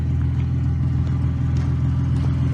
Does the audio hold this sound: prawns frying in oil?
no